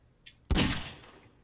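A single loud gunshot in the video game Prop Hunt, a sharp blast with a decaying tail, heard alone after a brief faint sound.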